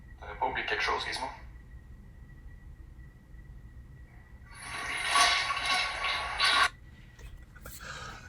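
A toilet flushed by a cat: a rushing burst of water swells loud for about two seconds, with a shorter splash of water earlier and voices heard faintly around it.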